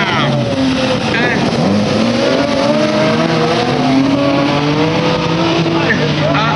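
Maxi Tourisme race cars, including a Peugeot 208, roar off at the start of the final at Plouay 2019, engines revving and shifting loudly and continuously, with tire squeal and a commentator's voice over them.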